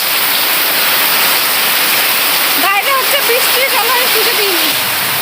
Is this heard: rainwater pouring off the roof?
yes